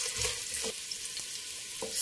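Chopped small onion frying in three tablespoons of oil, a soft steady sizzle with a few light stirring scrapes, close and moderately quiet.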